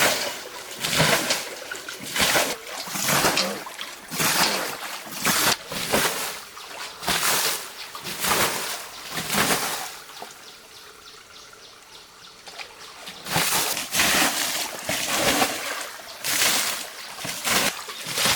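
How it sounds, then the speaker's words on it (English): Muddy water being bailed out of a pond with a basin, repeated splashing scoops and pours in irregular bursts, a quieter stretch of trickling in the middle, moderately close with no talk. "So I turn back to get a basin and start bailing it out."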